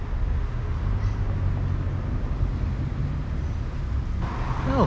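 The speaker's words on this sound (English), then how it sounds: "Sorry about a bit of traffic noise" Road traffic noise rumbles steadily near a campervan stop in a Derbyshire valley, a continuous low wash of passing vehicles at moderate level with a faint chirp near the end.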